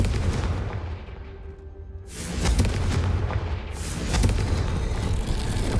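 Bombarda and Confringo spell explosions in the game Hogwarts Legacy, deep booming blasts that swell and rumble in two or three heavy surges, loud and close.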